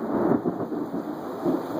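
Thunder from approaching severe storms rolls as low, rumbling swells that rise and fade across the short stretch, fairly loud and steady, with no speech over it.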